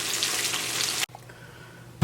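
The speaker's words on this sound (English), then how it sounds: "so finish frying up our oyster mushrooms" Oyster mushrooms frying in hot oil crackle and sizzle loudly for about a second, then the sound cuts to a quieter hiss before a brief clatter at the end.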